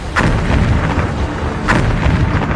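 Explosions at Pakistani airbases in news footage: a loud, continuous rumbling roar with two sharper blasts cracking through it, one near the start and one later, and no speech.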